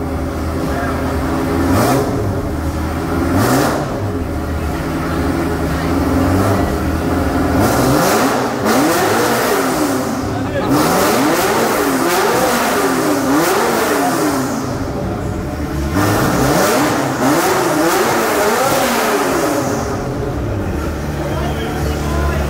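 Car engine revving hard in a garage of exotic cars, repeated rising and falling high revs that stay loud and close throughout, with people talking over it.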